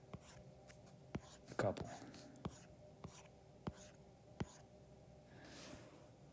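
A pencil or pen sketching lines by hand during a geometry lesson, with faint scratchy strokes repeating at an uneven rhythm while a person speaks softly.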